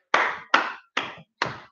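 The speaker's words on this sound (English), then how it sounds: "We have a round of applause." Four separate claps at an even, unhurried pace, close and clear, each one ringing briefly before the next. They come from a single person at the end of a fitness workout session.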